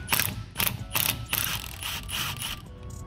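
Milwaukee 3/8 ratchet clicking loudly and close in quick repeated bursts while cracking rear wheel bearing bolts on a Chevy Silverado, with no talk.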